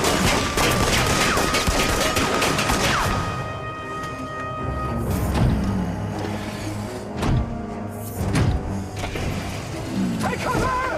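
Constables fire a volley of rifles, sharp cracks scattered across the clip, some close together and some spaced apart, mixed with clatter and dramatic background sound.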